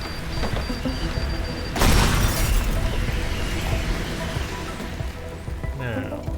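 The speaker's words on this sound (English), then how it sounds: "Bombs are fun. I like using bombs." A bomb goes off in the Teardown game, one loud, broad blast of booming noise that then trails into rumbling debris, heard close and heavy over steady background sound.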